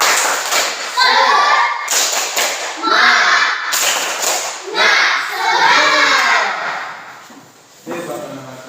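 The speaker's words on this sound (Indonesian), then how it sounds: "Tepuk semangat." Classroom of children doing a rhythmic tepuk semangat spirit clap, loud patterned bursts of claps and thumps mixed with their chanting voices, close and repeated in quick sequences.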